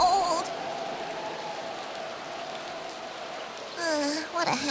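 Rain falls in a steady, soft hiss from a cold outdoor scene in a dubbed Chibi Maruko Chan cartoon, running throughout with voices briefly at the start and end.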